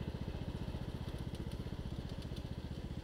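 A lawn mower engine runs steadily while a small boy mows grass, giving a close, continuous pulsing chug with a regular rapid rhythm and no talk over it.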